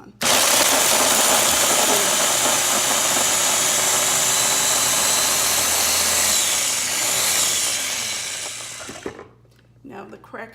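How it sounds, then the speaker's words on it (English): A kitchen food processor grinds crackers for salmon croquettes, a loud, continuous whirring roar that holds steady for several seconds, then winds down and stops near the end. "So we get those crackers blended up."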